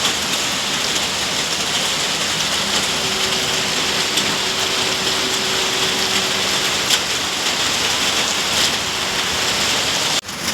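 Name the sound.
heavy rain falling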